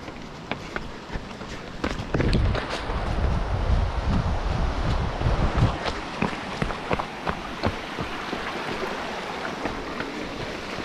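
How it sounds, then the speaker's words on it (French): Mountain torrent rushing steadily along a 110 km mountain trail race course, a continuous broadband roar of flowing water with wind buffeting the microphone and occasional footsteps or knocks on top. "personne ne saura qu'il y a ce magnifique torrent"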